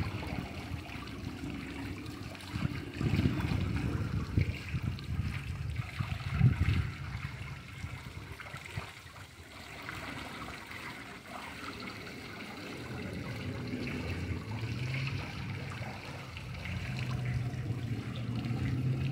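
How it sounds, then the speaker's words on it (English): A waterfall in Larz Anderson Park in Brookline, Massachusetts, produces a steady low rushing and trickling wash of water, continuous and moderately distant, with no talking. "I love the sound of that. Of waterfalls."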